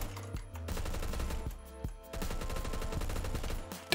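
FAL rifle firing in Phantom Forces, fast repeated shots in rapid strings broken by short pauses, loud and close with no talk over it.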